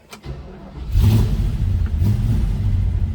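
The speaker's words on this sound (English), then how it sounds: "Let's fire this up." A 1964 Pontiac GTO 2-door hardtop's engine cranks briefly, then catches and settles into a loud, steady low idle rumble close by.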